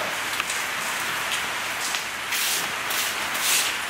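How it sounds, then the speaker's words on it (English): Hail falls steadily and close by, a dense patter of hailstones striking hard surfaces that swells louder toward the end, with no voices. "this is the first time I've seen hail since I've been here"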